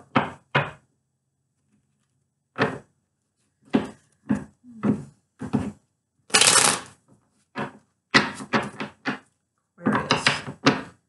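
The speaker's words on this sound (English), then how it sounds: "Let's do a few more shuffles here." Tarot cards being shuffled by hand in a series of short, crisp riffling bursts separated by pauses, close and fairly quiet, with one longer flurry midway.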